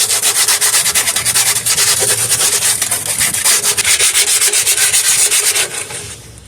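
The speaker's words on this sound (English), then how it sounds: "I'm using a sandpaper and I'm sanding here on the frame" Close, loud sandpaper scrubs back and forth on the metal frame of a Ford F-150 pickup in a fast, rhythmic stroke pattern for several seconds, then stops, with no talking.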